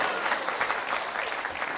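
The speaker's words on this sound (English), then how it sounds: "Let's give him another loud round of applause" An audience at a kirtan night at Bhaktivedanta Manor claps for Gaura Vani Das, a dense, continuous burst of many hands applauding loudly throughout with no voices on top.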